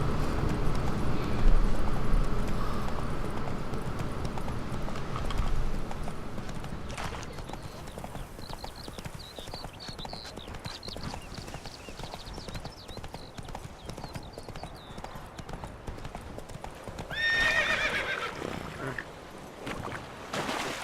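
Hooves of a horse in The Witcher 3 clip-clop in a steady rhythm, loud and close at first and then lighter, with a short whinny near the end over game background sound.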